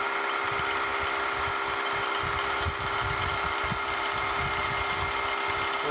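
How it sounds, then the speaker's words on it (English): A milling machine cuts metal with a brand-new sharp 2-flute 1/4-inch end mill running about 525 RPM at a slow feed, giving a steady mechanical drone with a chattering, rumbling low vibration. "So that's the 2-flute 1/4-inch end mill"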